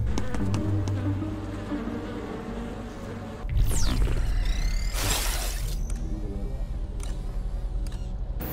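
Bees in the video game République buzz steadily among flowering plants, a continuous insect drone with a sharper swooping pass midway and a few brief clicks and chirps layered in.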